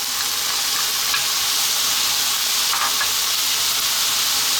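Onion hitting a hot pan with beef, high heat, sizzles in a loud, steady hiss that runs unbroken throughout, close and dense with no voices over it.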